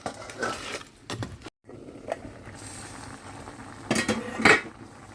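Metal cookware clinks and a lid clatters onto a pot of crab curry, a few scattered knocks with a louder clank near the end, no talking.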